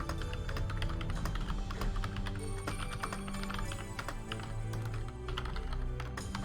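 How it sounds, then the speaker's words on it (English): Fingers type on a computer keyboard in a steady stream of quick clicks over a dense background hum, with no voices. "I'm gonna start typing down the current plan"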